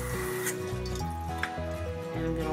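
Tap water runs and splashes onto a marker drawing on paper, a steady close liquid wash with small drips and spatters and no talking.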